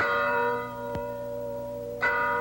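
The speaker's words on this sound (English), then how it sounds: "That's the Lexington Meeting House bell. It's the call to arms." The Lexington Meeting House church bell rings out a call to arms, two loud clangs about a second apart, each leaving a long ringing hum that lingers between strikes, with no voices.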